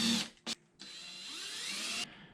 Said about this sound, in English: Drill out those pilot holes.